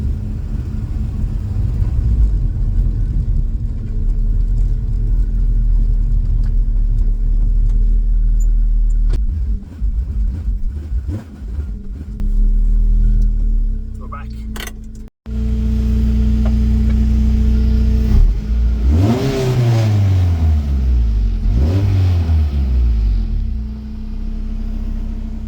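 A Mini fitted with a Honda VTEC engine rumbles steadily as it drives, then drops out briefly before the engine note returns and climbs through a couple of revving pulls, loud and close throughout.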